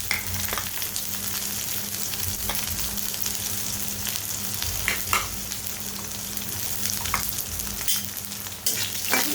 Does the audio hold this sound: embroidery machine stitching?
no